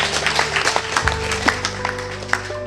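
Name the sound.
applause from the audience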